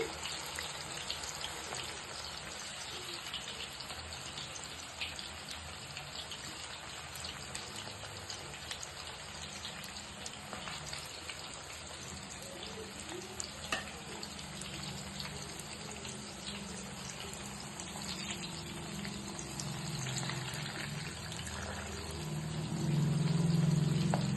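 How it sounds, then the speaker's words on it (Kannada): Chicken kabab frying in oil over a low flame gives a steady, soft crackling sizzle throughout, growing a little louder toward the end, with no talking. "ಕಬಾಬ್ ಫ್ರೈ ಆಗ್ತಾ ಇದೆ"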